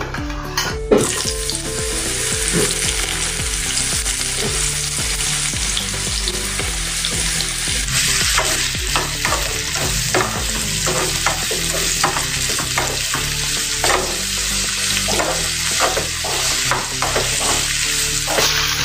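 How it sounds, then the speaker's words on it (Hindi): Ridge gourd (turai) is fried in hot oil, giving a loud, continuous sizzle heard close up, with occasional stirring scrapes and knocks of a spoon against the pan. "अभी इस यही तेल में हम तुरई को तलेंगे"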